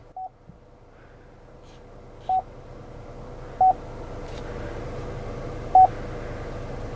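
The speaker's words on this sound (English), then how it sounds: "Beep is kind of annoying." Touchscreen of a 2018 Chevrolet Equinox infotainment system giving four short, clipped electronic beeps spaced a second or two apart over a quiet cabin hum, with no talking.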